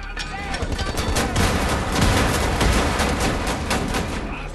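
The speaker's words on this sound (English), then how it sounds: "three grenades and just nothing but being blasted by shells" Shooter-game combat in Wolfenstein: The New Order: dense, rapid bursts of gunfire and booming shell blasts overlap continuously, loud and close, with a voice talking underneath.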